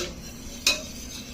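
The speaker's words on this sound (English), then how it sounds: "Then, grab a spoon. And start stirring it." A spoon stirs ginger tea in a cup, giving one bright, sharp clink against the side over faint background noise, with no talking.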